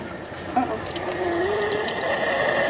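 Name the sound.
water flowing out of an RV water heater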